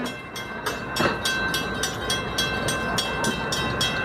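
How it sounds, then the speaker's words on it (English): A heavy California Western (Skunk Train) train rolls over the tracks at Fort Bragg, with a steady series of regular clacking wheel beats over a deep continuous rumble, close and fairly loud, with no talking. "I think it's a heavy train. It's shaking the ground. It's going over tracks."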